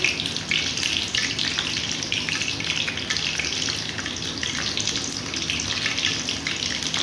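Potato donuts frying in hot oil over a low flame, giving a steady, close, continuous sizzle and crackle throughout with no voices.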